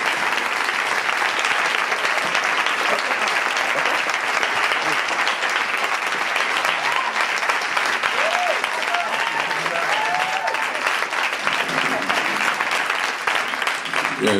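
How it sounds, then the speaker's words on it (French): A large festival audience applauds loudly and steadily for an award at a film festival prize ceremony, a dense, sustained wash of clapping with faint voices and brief whistles within it. "je demande d'applaudir fortement John Charles Meyer"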